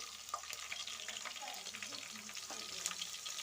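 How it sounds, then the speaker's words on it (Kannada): Chillies and mustard seeds sputter and crackle in hot oil, a steady broadband sizzle with scattered sharp pops from start to finish and no voices over it. "ಎಣ್ಣೆ ಕಾದಿದೆ ಫಸ್ಟ್ ಇವಾಗ ಮೆಣಸಿನ್ಕಾಯಿನ ಹಾಕ್ಬೇಕು ನೆಕ್ಸ್ಟ್ ಇವಾಗ ಸಾಸಿವೆನ ಹಾಕ್ಬೇಕು"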